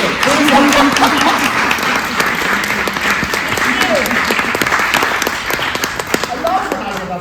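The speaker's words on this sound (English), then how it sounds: "I love when I get a spontaneous applause" Sustained applause from a theater audience at a post-show talkback, dense steady clapping throughout at full loudness, easing slightly toward the end.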